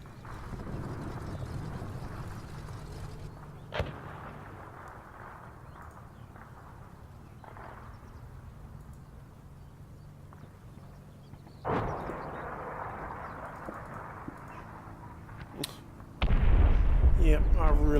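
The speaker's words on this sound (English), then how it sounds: "81mm mortars took out that pack gun" 81mm mortar rounds land in Combat Mission Final Blitzkrieg, sharp booming bursts scattered across a quiet low rumble, with a heavier sustained roar near the end, while someone talks over parts of it.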